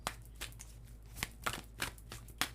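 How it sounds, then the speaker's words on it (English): A large oracle card deck is shuffled close by, with repeated quick riffling and slapping bursts in an uneven rhythm and no talking. "This is such a big deck to shuffle."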